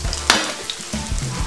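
Potato pancakes fry in a nonstick pan with a close, steady hiss and crackle, plus a brief clink or scrape of a utensil.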